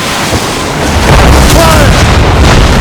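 Naval cannon fire in Assassin's Creed Rogue, loud booming blasts over a constant roar of sea and wind, with shouted voices in the background.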